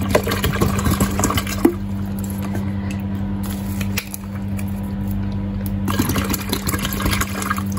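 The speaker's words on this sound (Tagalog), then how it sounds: "lalagyan natin ng water na para masubukan natin" Water pours into a pet water fountain with a steady liquid rush and trickle, with a constant low hum running underneath throughout.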